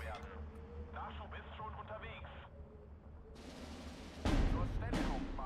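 Mortar fire in the wartime strategy game Steel Division 2: distant thuds and crackling battle noise under quiet radio-like chatter, then a loud close blast near the end followed by further bursts.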